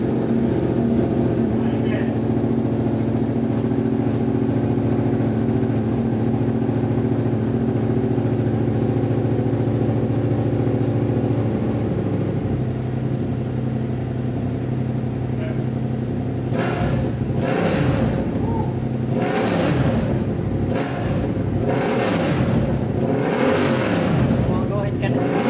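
A Yamaha MT-07 motorcycle fitted with a new SC Project exhaust runs loud and close, idling steadily, then gives a series of sharp revs that rise and fall in quick bursts during the second half.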